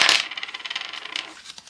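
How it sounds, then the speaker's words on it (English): A die rolls and rattles in a small dice tray during a cash-stuffing savings challenge, giving a quick, bright clatter of tiny repeated ticks that fades out within about two seconds, close and alone. "I can't believe my dice is staying in my little dice tray"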